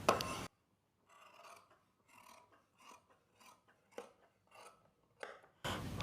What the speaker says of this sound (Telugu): ఇలా పిన్స్ పెట్టుకున్న తర్వాత కటింగ్ చేసేసుకోండి.